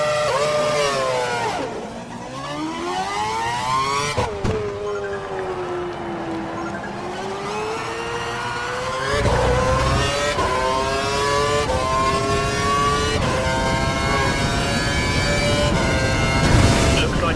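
An F1 race car in a video game accelerating hard out of a hairpin, its engine pitch climbing through repeated rising sweeps with gear-shift drops, loud and close, with a voice talking over parts of it.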